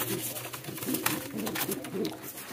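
Pigeons coo repeatedly close by, soft throaty rolling calls overlapping one another, with a person talking over them.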